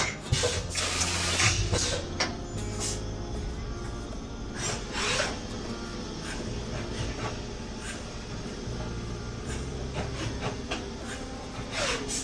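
Close scraping, rubbing and clattering of metal as a machining pallet for flashlight parts is loaded on a workbench, with steady machine hum behind and a few louder knocks.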